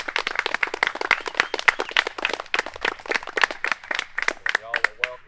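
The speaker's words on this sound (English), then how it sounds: "Give them a big round of applause." A small outdoor audience at a 9th Kentucky Infantry reenactment demonstration claps. The individual hand claps are distinct and irregular, close and moderately loud.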